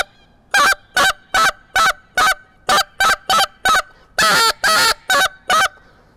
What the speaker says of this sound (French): c'est comme ça qu'on fait la spit note, il n'y a pas d'autre façon